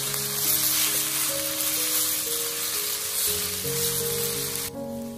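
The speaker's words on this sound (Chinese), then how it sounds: "把腌好的肉丝倒下去炒香，先用铲子快速地将它划散。" Marinated shredded pork stir-fried in a wok for a garlic-scape and pork dish, tossed quickly with a spatula, gives a loud, steady, continuous sizzle over background music.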